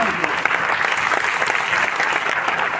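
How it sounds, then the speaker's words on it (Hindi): Audience at a success celebration event clapping on cue, brisk continuous applause from a packed hall, loud and even throughout. "तो उस डिसीजन के लिए ताली बजाओ"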